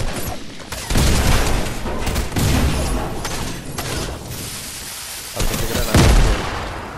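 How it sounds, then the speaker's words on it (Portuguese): A grenade blast in Fortnite, a loud burst at about one second followed by further booming hits and a second heavy impact near six seconds, with gunfire-like crackle in between and no talk. "Agora morreu com a minha granada."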